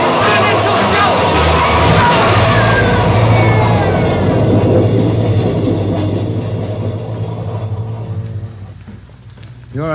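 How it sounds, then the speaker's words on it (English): A loud, rumbling train roars past in a tunnel, with shouting voices mixed into the din before the noise fades away. "There's a train coming through."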